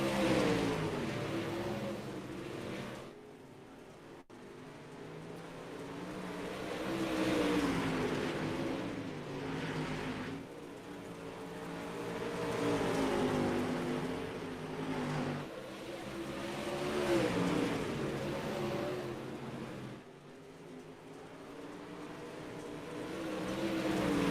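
Modified touring race cars roar around Volusia Speedway Park in a Bolt J&B Modified Touring Series race, engines swelling and fading in waves as the pack passes at a distance.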